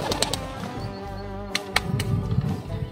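A racing pigeon released for a speed test beats its wings in a quick flurry of sharp flapping bursts, close and loud with a few separated claps.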